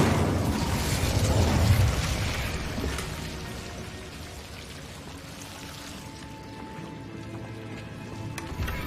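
A burst of fire from an Incendio spell in a Hogwarts video game roars and crackles loudly at first, then fades into a lingering hiss and rumble.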